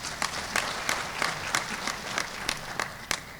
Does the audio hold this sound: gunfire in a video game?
no